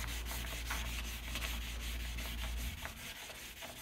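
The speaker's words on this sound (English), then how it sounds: "we're going to start sanding again." Quiet, steady back-and-forth hand sanding of clear coat with sandpaper on a foam block, a soft rhythmic scratching with a low hum underneath that drops out partway through.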